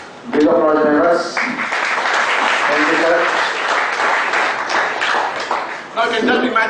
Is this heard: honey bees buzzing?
no